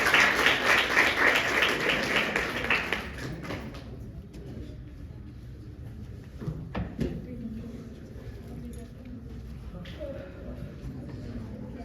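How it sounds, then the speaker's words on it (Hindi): Applause from an audience at a children's poetry recital greets a Class 11 student poet, a dense broadband patter for about three seconds that then fades into room noise and murmuring. "मैं चाहूंगा जोरदार तालियों से स्वागत"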